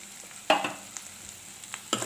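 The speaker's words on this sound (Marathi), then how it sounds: "त्याच्यामध्ये आपल्याला कांदा मसाला आणि घरचा मसाला आमचा टाकतो।" Onion and homemade masala are stirred in a hot pan for sukat, with a few scraping stir strokes over a faint, soft sizzle, close by and without talk.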